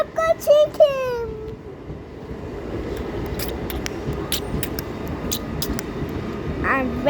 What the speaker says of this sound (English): A local train came.